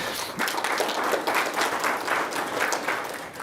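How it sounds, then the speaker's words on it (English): A commission meeting crowd gives a steady round of applause for the commissioners, a dense wash of many hands clapping throughout, moderately loud with no talk over it. "I'd also like everybody to just appreciate the commissioners, regardless of how they vote, with a round of applause right now"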